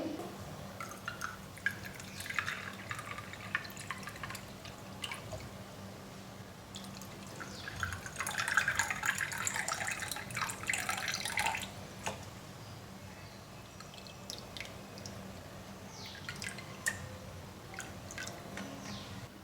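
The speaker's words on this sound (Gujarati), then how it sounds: "અને ઠંડુ પાણી એડ કરી દઈએ" Cold water trickles and drips into a glass with ice cubes, with light splashing and clinks, growing busier in the middle before easing off; no talking.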